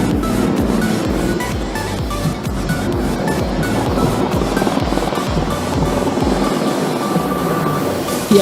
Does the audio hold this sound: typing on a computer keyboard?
no